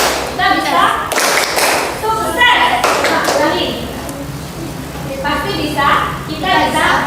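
A classroom group does rhythmic spirit clapping, with a few sharp unison claps and thumps between loud chanted phrases from several voices.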